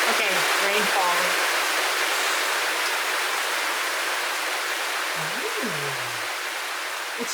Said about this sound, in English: Okay, rain falling.